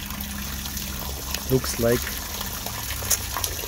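Water runs slowly into a fish tank with a steady, soft bubbling trickle close by, while someone speaks briefly over it.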